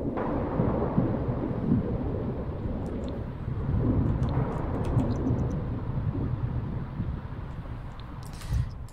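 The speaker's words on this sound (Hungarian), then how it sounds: "Nagyon-nagyon-nagyon dörög az ég." Low thunder in The Sims 4 rumbles steadily and heavily, a dense rolling roar that surges in waves across the stretch, with faint higher clicks near the end.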